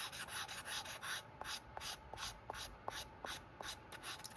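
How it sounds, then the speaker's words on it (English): A handmade leather mini wallet being sanded by hand, steady rhythmic rubbing strokes with short scratchy bursts repeating about every third of a second, close and quiet. "we'll sand that a little bit"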